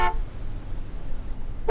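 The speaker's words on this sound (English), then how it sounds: "it was something to honk about" Car horns honking at the dedication of the new Stringtown Road in Clarksburg, two short loud toots at the start and end with a low road rumble between them.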